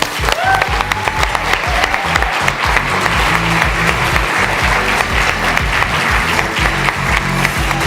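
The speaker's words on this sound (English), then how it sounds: "Let's give a huge round of applause as we welcome the 2024 Young Women Engineer of the Year, Marissa." Loud, sustained audience applause at an engineering awards ceremony, many hands clapping densely and steadily throughout with a faint crowd murmur beneath.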